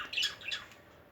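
Caged zebra finches give a few short, bright squawking chirps close by, a quick cluster near the start and another soon after, then fade out.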